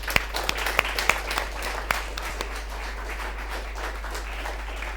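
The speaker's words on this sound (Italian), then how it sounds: "Facciamo un applauso a Gesù" A church congregation applauds steadily, with scattered sharper claps standing out early on before the clapping settles into an even, continuous patter.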